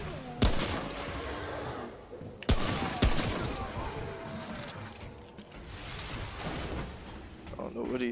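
Gunfire crackles in Remnant: From the Ashes, a few sharp loud shots standing out over a busy bed of rumbling ambience and scattered clatter, with someone talking now and then.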